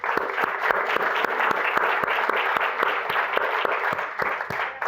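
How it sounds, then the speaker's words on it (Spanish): An audience at a conversation event about Dominican artists applauds, a continuous even patter of clapping from a modest crowd with a few sharper individual claps standing out. "Y yo le pido que le ofrezcamos un aplauso a ambos."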